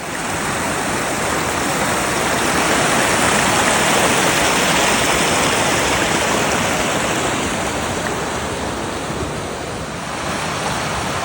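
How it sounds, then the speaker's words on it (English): A small mountain creek along the Colorado Trail rushes steadily over rocks, a loud, close, continuous wash of water with no voices. "Nice little creek."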